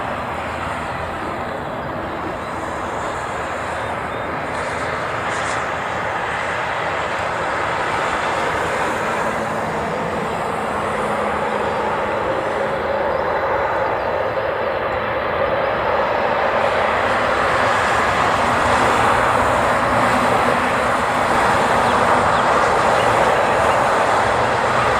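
A Hawaiian Airlines passenger jet passes at Honolulu airport with a loud, steady, broadband roar that slowly builds over the whole stretch, no voices.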